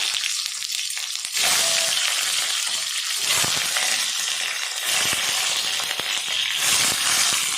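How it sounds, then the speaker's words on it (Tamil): Six boiled eggs fry in hot oil over a medium flame, giving a continuous, bright sizzle with scattered crackles and pops close by. "எண்ணெய் சூடாயிட்டு நம்ம வேக வச்ச முட்டையை சேர்த்துடலாம்."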